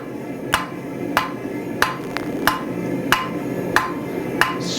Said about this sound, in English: I'm going to go ahead and switch to the flat side of my hammer.